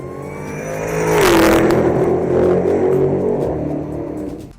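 A car engine fitted with a twin-screw supercharger revs hard, its pitch climbing to a loud, close snarl, then settling into a sustained high-rpm drone before easing off.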